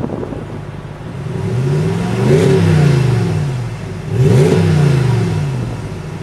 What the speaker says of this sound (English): It's a Gibson exhaust system, really a performance exhaust system out there.